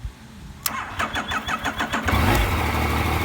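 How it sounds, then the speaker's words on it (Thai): A 2017 Yamaha MT-09 Tracer motorcycle cranks with a quick run of starter pulses, fires up, and settles into a close, steady engine idle. "มาฟังเสียงเครื่องกันดีกว่าครับ"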